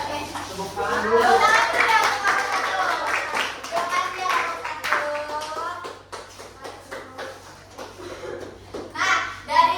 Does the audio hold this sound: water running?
no